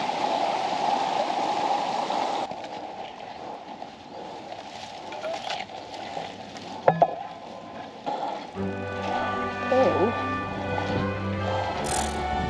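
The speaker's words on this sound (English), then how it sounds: "That waterfall was a lot more impressive than I was expecting it to be" A waterfall in the Goyt Valley near Errwood Hall runs full after rain. Water rushes and gurgles steadily in the background, with some faint knocks and other noises mixed in.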